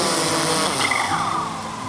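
Waterproof drone hovering at low idle outdoors in about 15 knots of breeze, a steady whirring motor tone with rising and falling pitch sweeps, loud and close throughout with wind noise.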